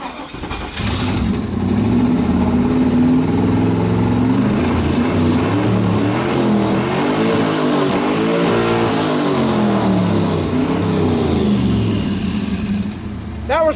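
A turbo LS engine fires up and revs hard up to the rev limiter, loud and close, with a sustained roaring drone, rising and falling pitch sweeps and a choppy limiter stutter in the middle.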